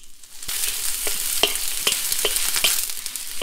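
Onions and garlic frying in a pan for Pad Thai, a steady sizzle broken by several sharp clinks and scrapes of a utensil stirring at an irregular rhythm.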